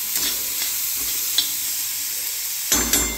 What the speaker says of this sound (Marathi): कांदा थोडा मऊ होऊ देत.